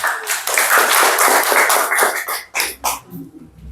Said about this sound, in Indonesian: bisa kasih tepuk tangan dulu.